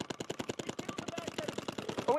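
Rapid bursts of paintball markers firing during a pro NXL tournament match in Dallas, a dense steady run of sharp pops continuing for two seconds with a voice faintly mixed in.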